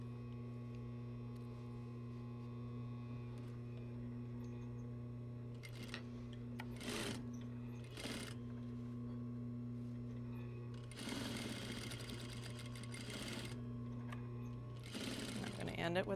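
A sewing machine stitches a garment seam on the opposite side, its motor humming steadily with rhythmic needle clatter that starts and stops in bursts, close by, while a person talks at times.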